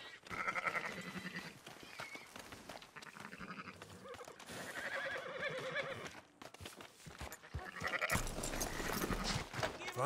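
Sheep bleat among horse whinnies and clip-clopping hooves in a Red Dead Redemption 2 game scene, several animal calls rising and falling over a busy farm backdrop.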